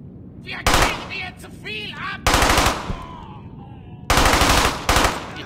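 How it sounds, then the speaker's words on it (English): MG42 machine gun fire in the video game Brothers in Arms: Hell's Highway, coming as three loud, close bursts of rapid shots separated by gaps, with other game sounds and faint voices between them. "MG42."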